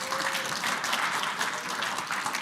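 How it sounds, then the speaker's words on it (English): A conference audience at LibertyCon International breaks into applause, a soft, distant wash of many hands clapping steadily through the brief moment. "Thank you for that completely unprompted applause."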